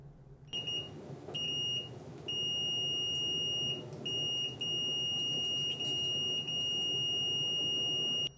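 A Fluke 17B MAX multimeter on continuity test gives a loud, high electronic beep, sounding in repeated bursts and nearly continuous tones with brief gaps, close and clear.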